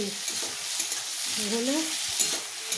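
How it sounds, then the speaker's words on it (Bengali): Mortar-crushed garlic paste fries in a pan with a close, steady sizzle while a utensil stirs and scrapes through it. "রসুন বাটাটা দিয়ে দিচ্ছি।"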